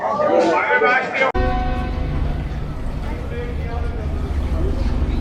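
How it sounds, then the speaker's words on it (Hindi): A long, steady train departure horn blast with sustained tones drones on over rumbling background noise at a Pakistani railway station in Multan, preceded by a moment of a voice speaking. "पहला डिपार्चर हॉर्न हो गया"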